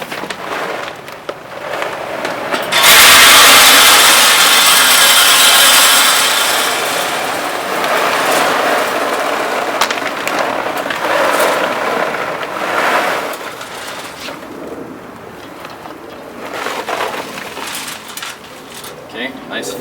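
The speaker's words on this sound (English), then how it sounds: "let's go ahead and add our pellets in and fill up our hopper" Wood pellets pour into the hopper of a Traeger Ironwood 885 grill, a loud granular rattling rush that starts abruptly, then tapers into scattered clatter, with someone talking throughout.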